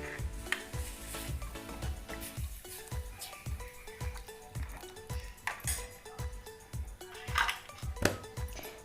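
A spoon stirs salted buttermilk kadhi in a metal pot on the stove, giving repeated clinks and scrapes in an uneven rhythm, close up, with a soft sizzle beneath and no talking.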